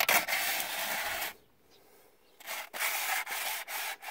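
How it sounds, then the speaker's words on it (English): Sandpaper on a flat straightedge rubs across the top of a 2000 Honda Civic engine block in close, loud rasping strokes, broken by a short pause and then several more quick passes. "I put it in some sandpaper and then run it across the top of the block like this."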